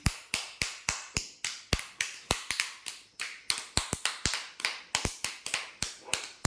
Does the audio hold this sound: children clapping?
yes